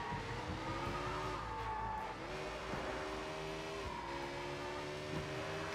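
A motorbike engine whines and shifts pitch during a street chase in Sleeping Dogs Definitive Edition, with tires skidding and squealing. The engine drone stays loud and close, rising and dipping as the bike swerves.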